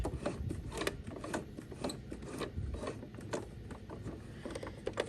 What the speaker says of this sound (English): also hand crank to make it go backwards for a back stitch